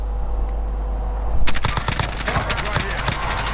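Called-in air strike gunfire in a video game: a quiet lead-in, then a sudden loud barrage of rapid impacts and explosions that continues with repeated sharp bursts.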